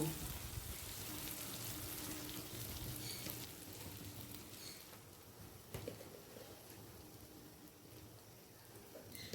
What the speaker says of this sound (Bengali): বেশি কষাবো না শুধু মশলার সাথে একটুখানি আদাটাকে মিশিয়ে নিলাম